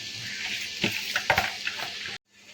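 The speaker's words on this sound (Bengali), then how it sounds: "সবজির সাথে চালটাকে মিশিয়ে নিয়েছি এবারও বাকি চালটা আবার দিয়ে দিলাম দিয়ে আবারও ভালো করে মিশিয়ে নেব সবজির সাথে" Rice mixed with vegetables is stir-fried in a pan, with a steady sizzle and several rhythmic scraping strokes of a spatula that stop abruptly near the end; no voices are heard.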